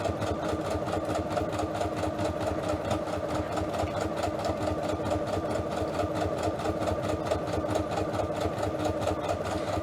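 Sewing machine stitching pockets from card stock scraps, a fast steady mechanical chatter of needle strokes with a low motor hum, continuous and close throughout.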